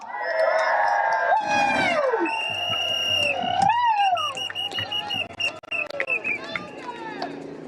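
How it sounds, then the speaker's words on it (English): Crowd at an Extinction Rebellion rally cheers and whoops for the young people, a dense, loud wall of voices with shouts rising above it, alongside an amplified speaker's voice. "I'd like to hear a cheer for the young people"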